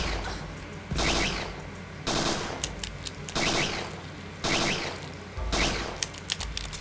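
In the PS1 game Parasite Eve 2, gunfire bursts shoot at enemies in four or five loud, evenly spaced volleys about a second apart, each a crackling cluster of rapid shots.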